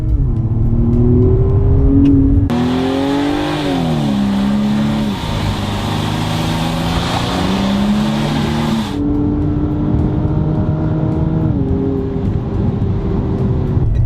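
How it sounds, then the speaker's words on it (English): A 2020 BMW M135i engine drones and rises steadily in pitch through several gear-like steps, with a broad, synthetic-sounding intake roar piped into the cabin for a stretch, heard from inside. "it sounds like the engine sounds are being piped into the cabin"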